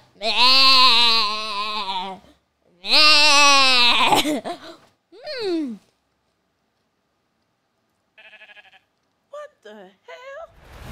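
A naturally generated pink sheep in Minecraft bleats in two long wavering calls near the start. A voice then exclaims briefly, and short chirpy squeaks follow with silence between them.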